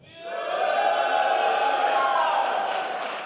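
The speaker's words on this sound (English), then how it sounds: "The Warcraft community is not very used to cheering in person" Live audience of a few hundred cheering and shouting at a Warcraft esports tournament in Dortmund, a sustained loud roar of voices that swells quickly, holds, and then eases slightly.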